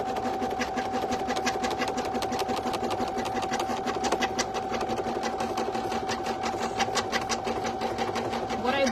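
Embroidery machine tacking down a fabric applique, a steady rapid mechanical stitching whir with a constant tone running throughout, close and continuous.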